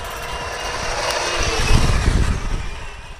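A 1/10 scale SG-1203 Ripsaw RC tank driving and making sharp turns, its electric drive whining steadily with a low rumbling track noise that swells midway, close and fairly loud, with no talking.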